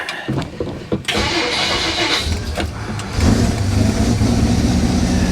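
A 1957 Plymouth Plaza, parked for over twenty years, cranks with a close, loud whirring starter in short bursts before the engine catches and settles into a rough, steady running rumble.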